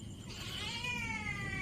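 A house cat gives one drawn-out, rising-then-falling meow, fairly quiet but clear and alone, with no talk around it.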